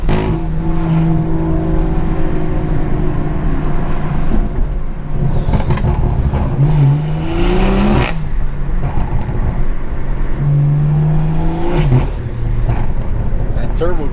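A BMW 340i with a turbocharged engine pulls hard under acceleration, its loud engine note climbing in rising sweeps through gear changes, with road and wind noise underneath.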